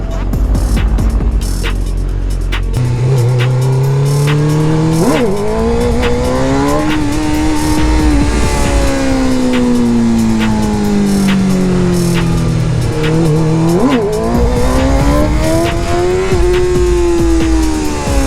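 A McLaren 650S sports car drives past with a loud, continuous engine note that rises and falls through revs over about eighteen seconds, with brief sharp surges.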